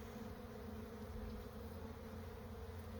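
Honeybees swarm over a brood frame during a spring hive inspection, their steady dense buzz filling the air close and continuous with no break or voice.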